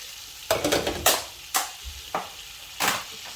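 A spoon stirs and presses egg halwa in a pan, breaking up added pieces of barfi and laddoo in ghee; several close, scraping strokes and soft mashing bursts come in an uneven rhythm with no talking.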